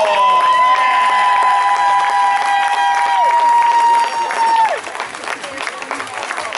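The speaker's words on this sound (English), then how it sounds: "Now he pops, give him a round of applause." Outdoor crowd at a soapbox race in Portishead clapping and cheering for a driver freed from a crash, loud and steady applause with tonal tones and crowd noise running through, thinning out near the end.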